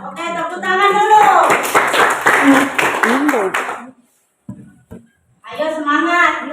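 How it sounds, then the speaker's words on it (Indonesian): A classroom group claps hands together in quick rhythmic bursts mixed with chanting, cheering voices, then falls briefly quiet before the voices resume. "Oke, tepuk tangan dulu"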